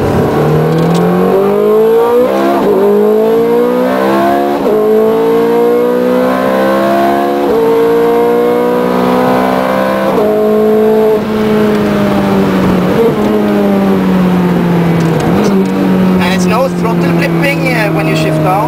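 A Ferrari 430 Scuderia engine revs hard through repeated climbing pitches, each cut off by a quick sequential gearbox shift, loud and close from inside the car, with talking over it.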